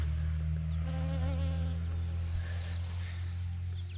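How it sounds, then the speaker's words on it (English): Bees buzz around a yard full of dandelions in the morning, a steady close insect drone with shifting pitch over a constant low background hum, with no talking. "And the bees are really working them this morning already."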